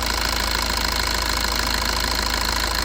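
A 2014 Maruti Swift VDI diesel engine idles with the air conditioning running, a loud, close, steady clattering rumble that holds constant throughout with no voices.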